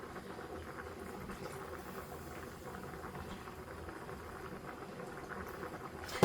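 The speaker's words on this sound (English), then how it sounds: "I'm going to raise the heat on this all the way, and then I'm going to pour this gravy mix right on top" Gravy mix poured over chicken in a pan on high heat bubbles and sizzles softly and steadily, a low continuous simmer with a small clatter at the very end.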